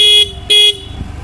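Two short, loud beeps of a Honda Activa 125 scooter horn, one right after the other, with a low engine hum underneath.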